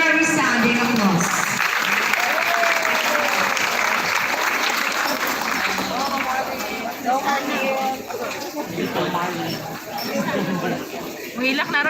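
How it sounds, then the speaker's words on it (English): Audience applause at a high school graduation ceremony fills the whole span as a loud, dense wash of clapping, with crowd chatter and voices mixed in throughout. "Let us give her a resounding applause"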